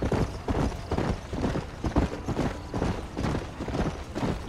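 Horse hooves clip-clop steadily on a trail in the Western video game Red Dead Redemption, a close, continuous rhythmic trotting with no talk over it.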